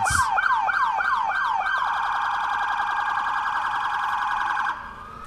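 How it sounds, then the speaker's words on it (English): A loud wailing police siren cycles rapidly in a yelp pattern, then settles into a steady sustained tone before cutting out near the end, at an autumn festival parade. "That siren audio brought to you by the Woonsocket Police Department"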